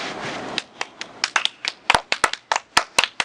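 A small group of people clapping hands at an outdoor fireworks display, a loose, irregular patter of crisp nearby claps that starts after a soft noisy lead-in and grows busier toward the end.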